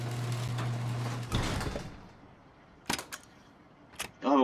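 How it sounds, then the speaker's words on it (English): Elevator door sliding shut in the survival game Rust: a steady mechanical hum that cuts off with a burst of sliding noise, followed by a few sharp clicks and a short whirring rise at the end. "And it will also close the door for us."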